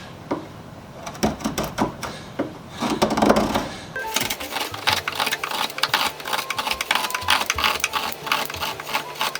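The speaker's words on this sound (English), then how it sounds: "I think this draw knife needs to be sharpened. Or maybe I just need to go against the grain the proper way." A draw knife shaves wood against the grain while a bench vise chop is being made, producing a run of quick, dry scraping and rasping strokes close by, with brief pauses between passes and a denser stretch of shaving toward the end.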